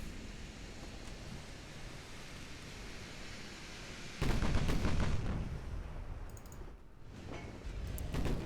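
Naval artillery fire in the game Ultimate Admiral: Dreadnoughts, a heavy boom erupting midway over a continuous sea-like rumble, followed by lingering roar and faint distant thuds.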